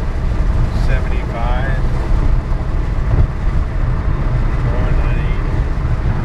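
Interior of a fully electric 1978 Porsche Carrera with twin WarP 9 motors driving in fourth gear: a steady loud low rumble of road and wind noise throughout, with someone talking over it.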